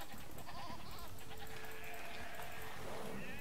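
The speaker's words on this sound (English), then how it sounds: "I can see that I have two goats there." Goats bleat faintly under a loud, hissy game soundscape in Age of Empires, a couple of wavering calls mixed into steady ambient noise.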